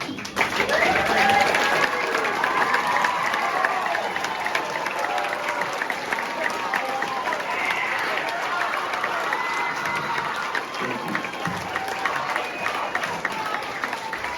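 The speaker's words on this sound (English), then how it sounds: "we're going to give them a round of applause." At a spring school concert, the audience gives eighth graders and eighth grade band members a long round of applause: sustained, loud, even clapping in a hall, with scattered cheers and voices mixed in.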